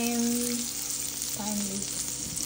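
Garlic fries in butter in a pan alongside beef steak, giving a short, steady sizzle with a few tonal notes drifting over it.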